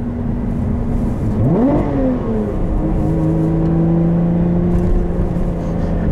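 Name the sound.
2021 Lotus Evora GT engine revving on heel-toe downshifts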